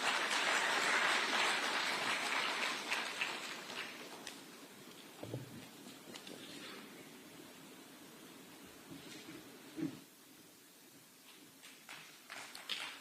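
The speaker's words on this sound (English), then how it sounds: "Another round of applause for him, please." Applause from a conference audience after a speech, loud broad clapping at first that fades away over several seconds into quiet room noise with a few stray thumps.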